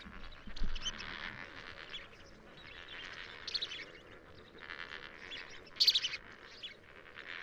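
Wild birds call around Lakes Nakuru and Baringo in Kenya's Rift Valley, with repeated high chirps and tweets in bursts, one brief louder call near the end, over a quiet outdoor background.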